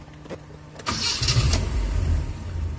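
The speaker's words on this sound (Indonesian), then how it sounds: "Nah, ini kan sudah mati, karbunya sudah isi, kita starter." A carbureted 1800cc Toyota Kijang engine set up for both gasoline and LPG cranks briefly with a few clicks, then catches and settles into a close, steady idle.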